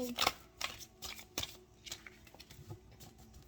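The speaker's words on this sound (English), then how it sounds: "I'm going to keep shuffling" A tarot card deck being shuffled by hand, giving quick soft riffling and patting bursts at close range, strongest early and then settling into lighter irregular flicks.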